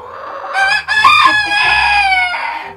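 A hen restless to lay an egg gives a loud, close, drawn-out cluck-squawk, one long rising call broken by a brief pause, with no talk over it.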